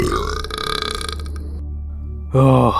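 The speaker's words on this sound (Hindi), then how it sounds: "अपना खाना खाने के बाद उसने एक डकार मारी।" A character in an animated Hindi Christmas horror story lets out a loud, deep burp after finishing a meal, following a brief spoken exclamation and a quiet pause.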